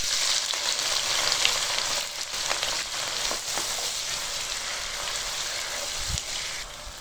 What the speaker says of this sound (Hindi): घी को गर्म करने के बाद इसमें 2 मीडियम साइज के प्याज शामिल करेंगे